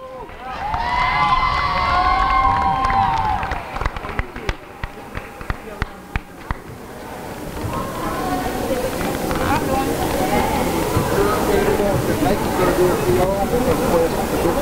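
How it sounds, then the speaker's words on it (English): A crowd at a school gym event cheers and shouts, a loud sustained roar of young voices with whistles and squeals, then a burst of sharp basketball bounces before the shouting and clapping swell again. "Let's go, crowd. Get behind them."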